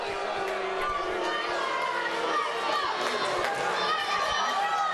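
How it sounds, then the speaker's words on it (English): Spectators at the Invasion Timmins II wrestling show cheer for the wrestler Ash, a steady, dense crowd roar with shouting and chatter that runs the whole time beneath a commentator's voice. "The crowd trying to get behind Ash again"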